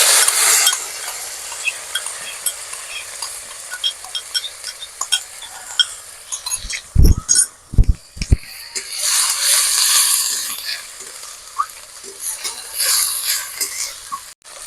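Ground onion paste goes into a pan of hot oil with dried red chillies and five-spice seeds and fries under a pan-side hiss, with a few low clunks and scraping stirs midway.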